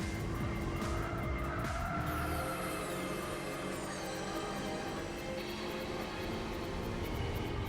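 Race cars in the Gran Turismo 4 video game, including an Acura, with a continuous engine drone and drawn-out tire squeal through the corners, sustained at moderate level.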